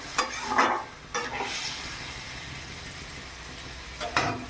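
A vegetarian curry of tender drumstick pods with water added is stirred in a pan: a few short scraping bursts of the spoon over a soft, constant simmering hiss, with no voices.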